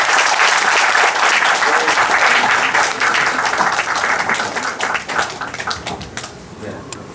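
Audience clapping welcomes an actress, a mother who performed in the play, onto the stage, starting loud and dense, then gradually thinning into scattered claps.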